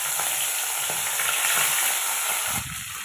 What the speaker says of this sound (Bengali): তেল গরম হয়ে গেছে, এখন মাছগুলো দিয়ে দিলাম।